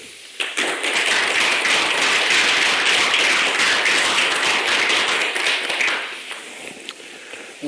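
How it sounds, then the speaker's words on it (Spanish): An audience welcomes Roberto Bolaño with warm applause at a book launch for the English translation of Nocturno de Chile. Dense, loud clapping swells in, sustains for about five seconds, then thins out into a few scattered claps. "querría que por favor recibiesen calurosamente con un aplauso al señor Roberto Bolaño"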